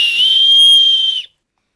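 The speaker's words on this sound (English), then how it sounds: "I want to see how this little whistle works, the emergency whistle. So let's blow that and see." A single sharp, shrill blast from a small emergency whistle held steady for about a second, loud and close, then cut off abruptly into silence.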